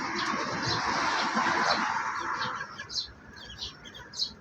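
A purebred wild red jungle fowl in a hill-country setting gives a few short soft clucking calls, spaced out near the end after a stretch of broad rustling background noise, fairly faint and close.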